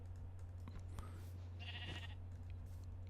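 A Minecraft sheep bleats once in a short wavering call around a farm, heard over a steady low hum with light clicks of keyboard typing nearby.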